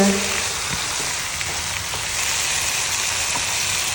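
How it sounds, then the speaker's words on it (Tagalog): Pork sizzles steadily in a hot pan with garlic and tomatoes, a dense crackling hiss with a few light clinks near the start. "at ilagay ang baboy. Gisa-gisa."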